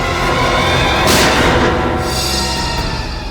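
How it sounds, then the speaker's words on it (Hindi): A single loud gunshot-like blast at around one second in a jungle setting, with a broad burst over a dense, steady noisy background and a short decaying tail. "गोली चलने की आवाज इस तरफ से आई।"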